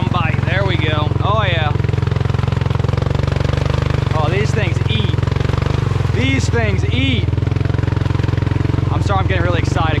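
A Honda Rancher ATV fitted with Assassinator tires runs at full throttle, its engine a loud, steady drone throughout, while a voice talks excitedly over it in several bursts.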